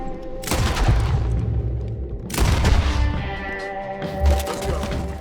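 Loud gunfire in the Red Dead Redemption 2 video game comes in two heavy cracking bursts with booming echoes, then a further thump, with no talk.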